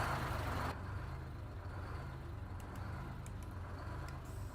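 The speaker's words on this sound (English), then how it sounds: "you'll hear the engine is hunting up and down a little bit like that. That's classic two-stroke Detroit." A two-stroke Detroit diesel truck engine in American Truck Simulator, its deep droning rumble hunting slightly up and down at idle, steady and close, with a sharp hiss at the start and faint clicks over the top.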